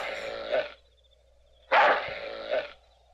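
A small dog in a 1977 comedy film barks twice, sharp and fairly close, with a short quiet gap between the two bursts.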